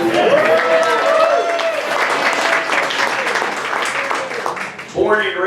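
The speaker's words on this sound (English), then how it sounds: "So let's give them a round of applause." Audience applause fills the room at a Dallas chorizo and menudo breakfast gathering, a dense, steady wash of clapping that carries on for several seconds while voices talk over it, briefly dipping near the end before rising again.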